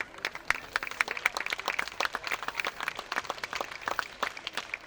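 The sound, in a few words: audience applause after folk dance performance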